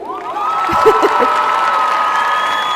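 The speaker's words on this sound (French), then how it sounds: "Applaudissez-vous" Young robotics competitors in a Quebec hall burst into cheering, shouts and applause, a loud, full crowd roar with a few sharp yells near the start that holds steady to the end.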